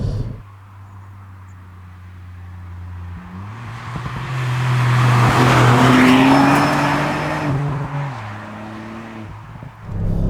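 Ford Fiesta ST Mk8 with a Stage 1 remap pulls hard out of a corner, its engine note rising, dropping at a gear change and climbing again, loud and close from inside the car.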